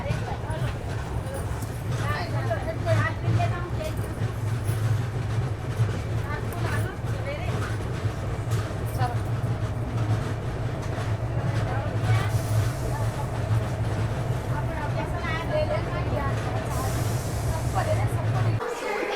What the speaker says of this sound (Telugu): మనమైతే ఇప్పుడు ఈనాటి గమ్యస్థానం అయినటువంటి నిజామాబాద్ జంక్షన్ రైల్వే స్టేషన్కి అయితే చేరుకున్నామండి